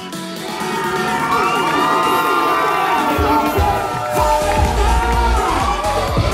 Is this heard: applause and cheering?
yes